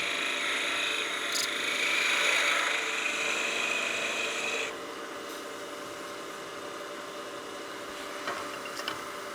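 A wooden bat house ornament spins on a lathe while a spindle gouge cuts it. A steady whirring cut gives way to a quieter hum, with a few brief scraping ticks near the end.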